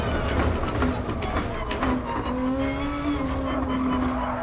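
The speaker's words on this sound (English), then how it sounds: "Cool GTR sounds. Really sounds a bit like a GTR" A Nissan GT-R in Gran Turismo Sport drones in a steady engine tone, with tire squeal and skidding noises layered over a continuous close rumble.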